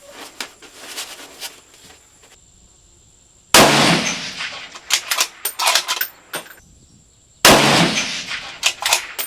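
Two loud rifle shots fired with the muzzle brake tightened, each a sharp crack with a ringing tail, spaced a few seconds apart, with small metallic clinks and handling noises between them.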